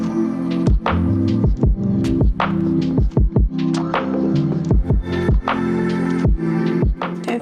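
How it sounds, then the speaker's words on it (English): A sewing machine runs in a steady hum while stitching straight seams down the edges of a reusable produce bag, with repeated soft thunks as the fabric is handled; no one talks. "we're just going to sew a straight line down either side of your bag as close to the edge as"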